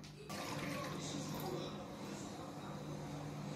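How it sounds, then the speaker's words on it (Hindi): Water is poured from nearby into a kadhai on a lit gas stove while Maggi noodles are being cooked, a continuous soft splashing gush that starts abruptly and runs to the end, fairly quiet. "मैं पानी डालता हूँ"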